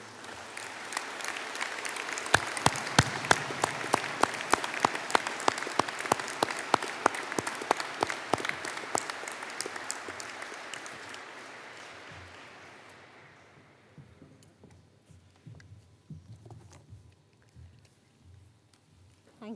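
Graduation ceremony audience stands and applauds software engineering master's graduates, dense hall clapping with sharp individual claps that gradually thins and fades out, followed by quiet room noise and faint stirring.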